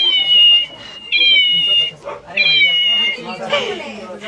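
A toy's electronic meow sounds in repeated high, buzzy bursts, with people talking softly underneath.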